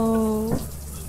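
A shower in the video game Lethal Company, a steady hiss of running water alongside a sustained tonal hum that cuts off halfway through the short moment, leaving softer spray.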